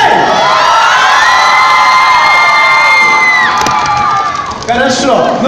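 A large group of children shouts together at the end of a countdown, a loud, sustained chorus of cheering voices that fades out, followed by a brief burst of renewed whoops.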